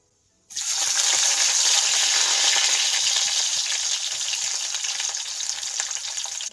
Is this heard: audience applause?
no